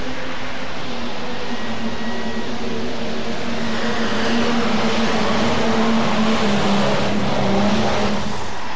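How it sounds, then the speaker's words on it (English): A pulling tractor's engine revs hard and loud at a farm machinery show tractor pull, a steady roaring drone that climbs in pitch over several seconds, with crowd and arena noise underneath. "On the starting line, here he comes. RPM's up, Gary Brinkmeyer."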